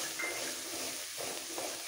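Ginger and cumin paste fries for hilsa head moong dal, giving a continuous soft hiss and sizzle with faint stirring, steady and fairly close, with no voices.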